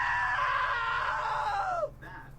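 A long, loud, high scream from a woman in a video game, held for about two seconds with a falling pitch that breaks off abruptly, followed by a fainter tail of sound.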